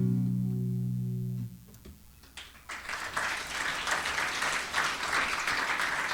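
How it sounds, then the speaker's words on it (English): Applause rises from a small live-music audience right after a song ends, following a brief tonal note; dense clapping continues steadily and fairly close for several seconds. "Thank you for clapping."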